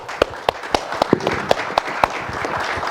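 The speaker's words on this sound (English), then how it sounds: "So I think a great round of applause for our startups." Audience at the Cyprus Diaspora Forum applauding startups, a steady patter of many hands with a few louder, distinct claps standing out in a regular rhythm.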